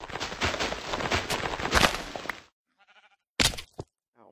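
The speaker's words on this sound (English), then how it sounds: "Oh, there's a sheep." A sheep in the Minecraft video game bleats, a brief cry heard after a dense rush of loud game noise that cuts off, followed by a couple of quieter short sounds.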